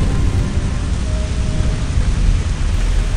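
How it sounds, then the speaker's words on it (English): Thunder rumbles low and heavy beneath a dense, steady hiss of rain, loud and continuous throughout with no voices. "When the deafening peal of thunder had died, and in the moment before the rain arrived, I heard Doodle"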